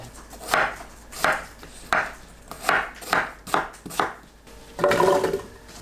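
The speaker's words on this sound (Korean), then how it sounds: "양파 반 개, 배 300g, 믹서에 갈기 좋은 크기로 썰어주세요" A knife chops onion and pear on a cutting board, about eight steady, evenly spaced thuds ending in a longer, rougher scrape, with no voices.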